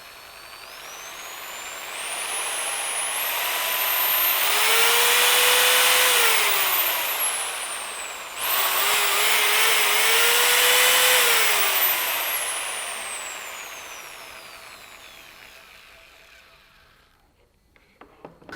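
A Bosch GSB 13 RE corded impact drill runs loud and close, its high whine climbing steadily in pitch as speed builds, dipping briefly, then rising again before winding down, heard alone without speech.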